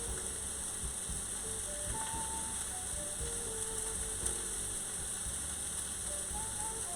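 Shrimp sizzle and crackle steadily in a hot pan for a shrimp alfredo, a continuous soft frying hiss with faint mechanical clicks and a low hum beneath, no voices.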